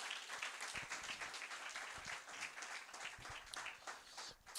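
Audience applause in a Telugu church in Coventry during a Sunday service: dense, continuous clapping from a congregation that stays steady at close range for the whole stretch, with no voices breaking through.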